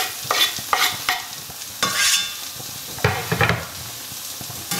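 Onion being stirred in a frying pan, a bright sizzle rising and falling with scraping strokes of a utensil in bursts, close and fairly loud, no speech.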